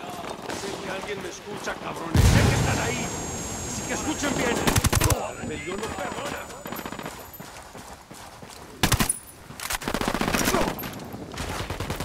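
Automatic gunfire in the Ghost Recon Wildlands video game rattles out in several loud bursts and sustained volleys, some near and sharp, with voices talking between and over the shots.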